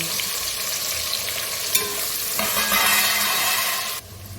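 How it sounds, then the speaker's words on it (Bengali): Onions fry in oil with spices for a mutton curry, making a dense, steady sizzle that swells louder as they are stirred. The sizzle drops off abruptly near the end. No one speaks. "মশলাটা ভাজা হয়ে গেছে, পেঁয়াজ দিয়ে দেবো।"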